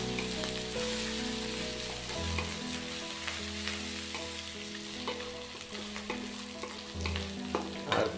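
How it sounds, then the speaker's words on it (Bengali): Garlic and ginger frying in hot oil, a continuous crackling sizzle close up with occasional stirring scrapes and utensil taps, no voices present. "তো হালকা রসুনটা ফ্রাই হয়ে যাওয়ার পর আমি আদাটাকে অ্যাড করব।"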